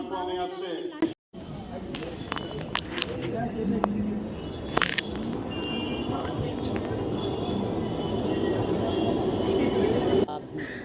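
A local train rolls into a busy station with a steady rumbling roar and clanks, close and continuous, while people talk nearby.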